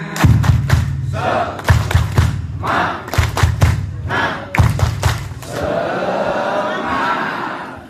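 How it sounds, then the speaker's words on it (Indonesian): A group performs a rhythmic Indonesian clapping chant, clapping and thumping in quick bursts with pauses between, followed by a crowd cheering together at the end. "Sebelum siap kita tepuk semangat."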